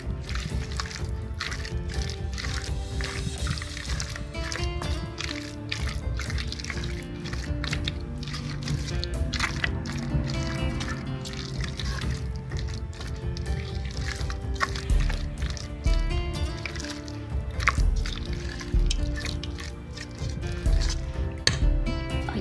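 Boiled egg sandwich filling is stirred and mixed in a bowl, a continuous close wet squishing and sloshing with scraping clicks throughout.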